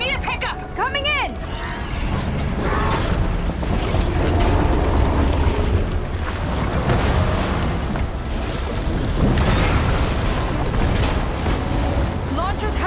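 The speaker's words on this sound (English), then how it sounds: "Blowing up that last heatsink might have breached the hull." Heavy rumbling blast from a heatsink exploding on a machine in Horizon Forbidden West, a sustained roaring boom churning beneath a voice and game effects.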